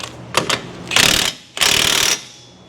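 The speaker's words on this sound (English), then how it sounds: "let's go ahead and run down the axle nut here" A ratchet running down the axle nut on a 2002 Ford Explorer 4.6: two short clicking bursts, then two longer loud buzzing runs, very close, with no talking.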